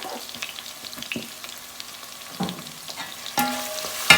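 Pepper and condiments frying in a pan for a mustard-sauced fried duck leg dish, with steady close sizzling and several scraping stir strokes, the loudest near the end, and no talk.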